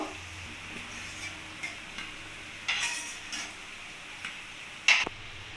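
Carrot pakoras fry in a kadai with a soft continuous sizzle. Occasional light clinks and taps of a utensil sound against the pan.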